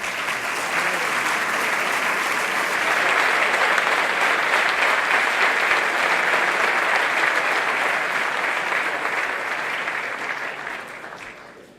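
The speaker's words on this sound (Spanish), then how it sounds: "Un fuerte aplauso para ellos." At an evening finance awards ceremony, a large audience gives the award winners loud sustained applause, a thick even roar of clapping that holds for about ten seconds before fading at the end.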